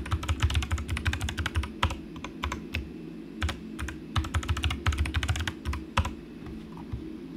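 Keys clatter on a computer keyboard as a username and password are typed, close and clear, in quick uneven bursts of taps with short pauses between them, over a low steady hum, with no speech.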